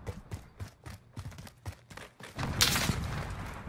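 Rapid gunshots in a video game pop in an irregular string of sharp reports, moderately quiet, swelling into a denser, louder burst near the end.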